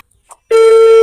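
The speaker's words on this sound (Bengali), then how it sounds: "এখানে কিন্তু রিং হচ্ছে। আপনারা রিং শুনতে পাচ্ছেন আশা করছি।" A mobile call on a Banglalink SIM gives a ringing tone: after a half-second of near silence, a single loud, steady tone begins and holds to the end.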